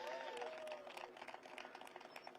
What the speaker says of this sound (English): Please give President Barbara Rogers and all of the leadership team a big round of applause